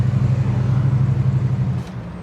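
A classic Mopar Barracuda convertible with an automatic transmission drives along, its engine giving a steady low drone that eases off slightly near the end.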